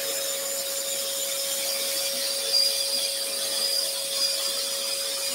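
A steady, quiet buzz of a scroll saw cutting wood continuously, with a constant motor hum and a faint high whine throughout.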